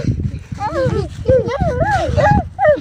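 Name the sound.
puppies yelping while children play with them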